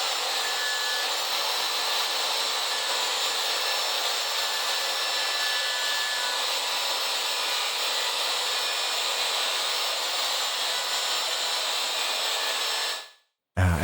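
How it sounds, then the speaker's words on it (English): A circular saw rips steadily through a wood board while building a guide track, a loud continuous whine lasting about thirteen seconds before cutting off abruptly. "I'm cutting it off with my circular saw."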